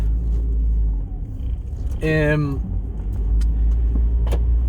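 A car's engine and road noise make a steady low rumble from inside the cabin while cruising, with a short voiced sound rising briefly partway through.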